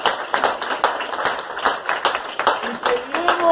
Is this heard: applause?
yes